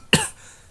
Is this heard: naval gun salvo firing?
no